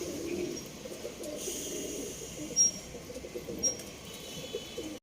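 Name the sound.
restless pigeons cooing in a loft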